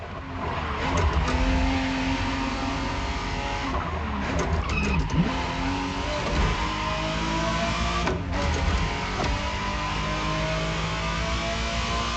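A 1991 re-engineered Ferrari Testarossa in The Crew Motorfest gives a loud, steady engine drone with a few tyre squeals and skids mixed in, continuous throughout with no talk.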